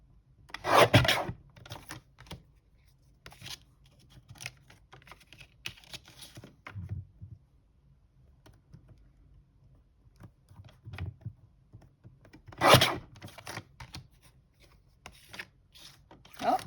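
Tarot cards of a Star Tarot deck being cut with scissors: quiet, irregular snips and rasping paper sounds, close by, with pauses between bursts and brief soft talk.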